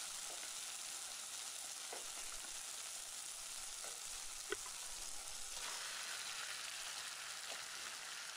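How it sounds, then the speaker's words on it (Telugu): Marinated chicken for a Chettinad chicken curry sizzles steadily in a hot kadai, a dense, close frying hiss with a few faint clinks and no voices. "ఇప్పుడు ముందుగా మనం మ్యారినేట్ చేసి ఉంచుకున్న చికెన్ను బాండీలో వేసుకోవాలి"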